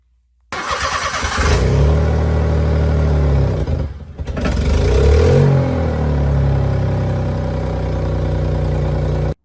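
A Honda Z GF-PA1 kei car fitted with a Fujitsubo exhaust starts up and revs close by, loud throaty bursts with a brief dip between them before settling into a steady idle.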